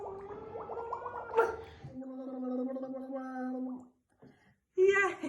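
Toddler blowing bubbles in the water during a swim class, a burbling, gargling sputter that comes in bursts with short pauses between them. Children and adults talk and splash nearby.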